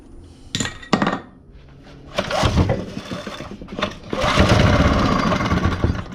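A small engine clatters and sputters through a few cranking attempts, then catches and keeps running with a loud, steady mechanical rattle.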